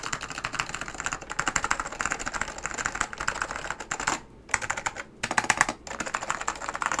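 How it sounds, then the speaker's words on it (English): Rapid, continuous typing on an old-school keyboard fitted with Alps switches, likely SKCM White, in a Geon Works Frog TKL build, giving a bright, clacky chatter with two brief pauses, close and alone with no talk. "Like my OG Alps keyboard, like this is clack."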